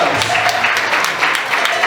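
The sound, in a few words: wedding guests applauding the bride and groom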